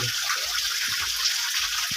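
Clear, cold water runs beside a fox cave near a village, a steady close rushing trickle that fills the whole moment, with a few soft low knocks beneath it.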